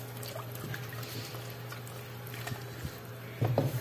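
Water pours steadily into a pressure-cooker pot of chicken and rice soup, a continuous close splashing rush over a low kitchen hum that swells briefly louder near the end.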